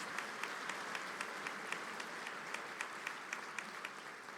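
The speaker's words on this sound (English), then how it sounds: "That deserves an applause." Applause from a commencement ceremony crowd comes as a continuous, even wash of many hands clapping, heard from some distance with no talking.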